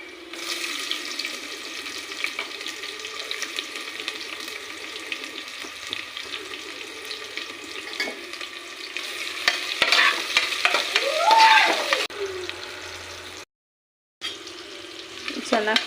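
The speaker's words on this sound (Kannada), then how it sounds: "ಈರುಳ್ಳಿ ಸ್ವಲ್ಪ ಕಂದು ಬಣ್ಣಕ್ಕೆ ಬರೋವರೆಗೆ ಫ್ರೈ ಆಗಲಿ" Onions fry in a pan for coconut-milk ghee rice, a continuous close sizzle broken by scraping stirs that swell louder near the end, with a brief silent gap.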